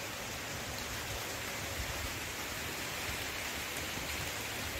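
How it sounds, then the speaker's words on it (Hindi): Steady, moderate rain falls outdoors in a monsoon downpour, a dense continuous hiss with no talk and no breaks. "बारिश शुरू हो चुकी है।"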